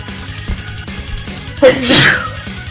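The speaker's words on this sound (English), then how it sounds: "And I apologize for that sneeze." A single loud, sharp sneeze bursts out near the end, rising from a quiet, low background hum.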